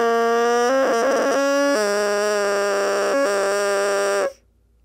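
A bassoon reed played alone produces a buzzing, reedy crow with several stacked pitches. It sounds steadily for about four seconds with brief wavers and breaks, then stops abruptly.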